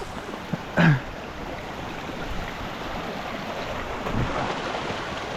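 A mountain stream rushes steadily on a hiking trail, a continuous broadband wash of flowing water with wind buffeting the microphone, and a brief knock near the start.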